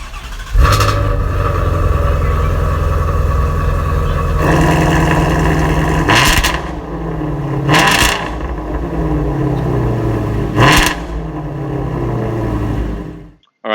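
The 5.2 liter 526 horsepower Voodoo V8 in a 2018 Ford Shelby GT350R idles with a deep, loud rumble, then is revved hard three times in sharp, rising blips that settle back to idle.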